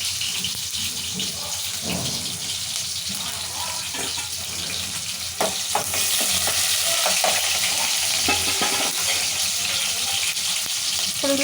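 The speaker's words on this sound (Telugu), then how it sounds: "ఉల్లిపాయలు బాగా ఫ్రై కావాలి రెడ్గా వేయించుకోండి" Onions fry in oil until reddish for a stuffed brinjal curry, a dense, close sizzle that grows louder midway, with intermittent stirring scrapes and no clear speech.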